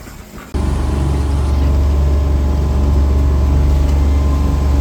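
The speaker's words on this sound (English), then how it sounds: "the wind is pretty intense. So I don't even know if you can hear me" A strong 20-knot headwind roars over a small boat pushing through 6-foot waves. It comes in abruptly as loud, dense, low rumbling buffeting that continues steadily to the end.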